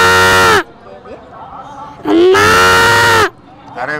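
A boy vocally imitates a buffalo's call with two long, loud, drawn-out lowing sounds separated by a pause, close up with faint background noise between.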